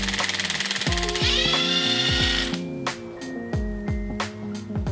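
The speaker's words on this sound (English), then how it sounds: "Now I'm just gonna use my gun to take it out the rest of the way." An impact gun hammers out a 14mm bolt on a Mazdaspeed 3 transmission in short, rattling bursts, close and loud, with the bolt spinning free and brief pauses between repeated trigger pulls.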